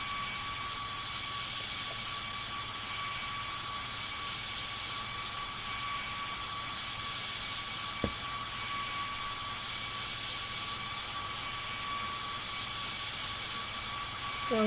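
An airliner taxiing at Paphos, a continuous steady engine drone with tonal whine and no change in level, one brief click midway.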